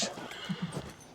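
A part Mustang, part quarter horse gives a short neigh, a quick fluttering whinny heard close by, with a faint voice underneath.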